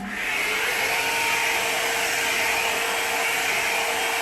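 A hot air styling brush blows steadily, giving a loud, continuous airy whoosh with a motor whine, close by and on its own.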